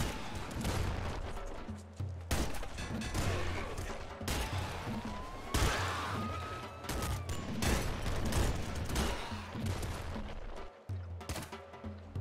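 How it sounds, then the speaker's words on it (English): SMG gunfire in the Nuclear Throne Ultra Mod video game: rapid bursts of sharp shots repeating every second or so across the whole stretch, mixed with game impacts and effects. "You're gonna hit me with the SMG."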